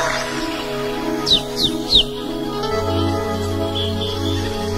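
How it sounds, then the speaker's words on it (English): Bird chirps in a 1993 jungle club music track, three quick rising tweets in a row over steady droning synth and bass tones, loud and up front. "Sounds like a bird."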